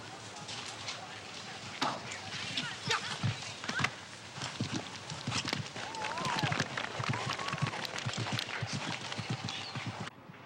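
Hooves pound in a fast, rhythmic gallop at a horse riding competition approaching a water jump, over a noisy, crowded background, with scattered voices and thuds throughout.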